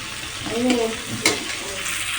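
Potatoes frying in hot refined oil for chicken biryani, a steady sizzle with a couple of stirring scrapes against the pan.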